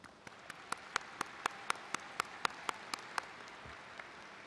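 Sparse, evenly spaced claps ring out across a large commencement ceremony hall, a dozen or so sharp distinct hits over a steady low crowd murmur, sounding more like a few individuals clapping than a full audience ovation.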